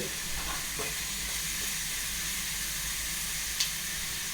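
Chicken frying in a pan for Chettinad-style kuzhambu, a steady close sizzle and crackle running throughout with no talking.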